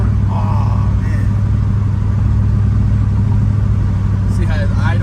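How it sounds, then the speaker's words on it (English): A 6.2 LS V8 swapped into an El Camino idles steadily and evenly, a constant low rumble running the whole time, with faint speech and a few brief sounds over it near the end. "See how it's idle just right?"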